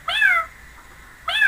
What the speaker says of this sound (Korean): 고양이 소리가 난다는 얘기죠.